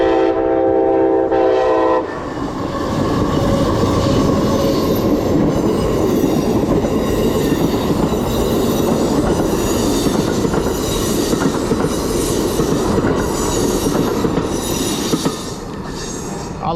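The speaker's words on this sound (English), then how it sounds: "So we're gonna stop here for the train." A train horn blares, then a long rumbling pass of rail cars follows, with rhythmic clacking wheels and squealing, loud and close.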